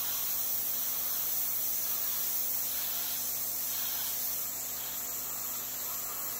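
A paint spray gun hisses steadily as light layers are applied to a Chevelle body, a faint continuous spray over a low electrical hum, with no voices.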